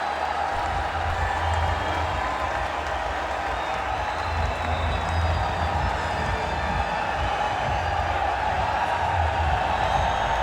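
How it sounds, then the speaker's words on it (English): A cricket crowd gives a standing ovation for a century at a Pakistan vs West Indies ODI, steady broad applause and crowd noise held at an even level throughout, with a commentator's voice faint underneath. "A standing ovation from the gallery and the crowd."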